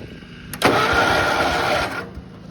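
A garden tractor engine cranks briefly, then catches and runs with a rough, steady mechanical roar for over a second before dropping back; close and fairly loud, no speech.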